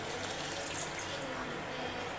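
Water poured steadily into a jar of coriander seeds and salt while making a spiced sugandhi drink, a continuous close splashing and trickling stream with no voices.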